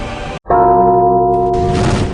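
A bell rings out at a street protest in Delhi with a single loud, sustained metallic strike whose clear tone hangs and slowly fades.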